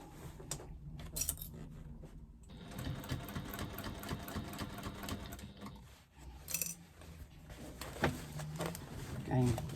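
A sewing machine stitches a bag as it is worked around the presser foot without a free arm, running in bursts of rapid mechanical whirring with brief pauses, small clicks and handling rattles, and a voice speaking at times.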